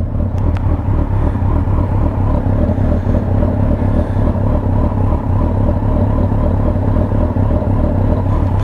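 A motorcycle ridden through wet weather on a memorial ride, with a steady close engine rumble and road noise running continuously throughout.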